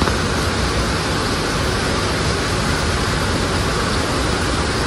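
Heavy morning rain falling outside makes a steady, dense broadband hiss that stays loud and unbroken from start to finish, with no voices.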